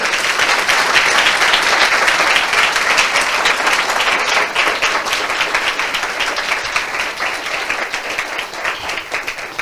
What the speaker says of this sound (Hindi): मैं चाहता हूं इस वचन के लिए हम जोरदार ताली बजाएं।